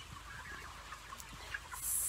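Young chicks and chickens in a farm barn cluck and peep softly in a scattered, busy chorus, close by but low in level, with no talking.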